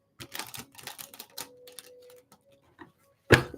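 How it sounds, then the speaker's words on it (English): A deck of cards is shuffled during a live psychic reading, with quiet rapid riffling bursts and a short pause before a louder thump of the cards settling. "And do one more shuffle."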